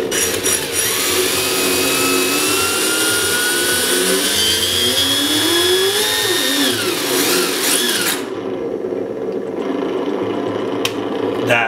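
Electronic engine sound unit fitted to a Tamiya XV-01 RC car, idling with a loud, steady synthetic engine drone whose pitch rises and falls before cutting out abruptly, leaving a fainter hum at the end.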